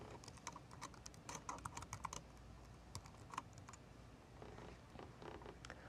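Username and password typed on a computer keyboard, with quiet clusters of key clicks in uneven bursts and short pauses, close by with no talk.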